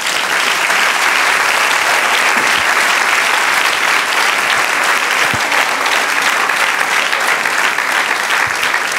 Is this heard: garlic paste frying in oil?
no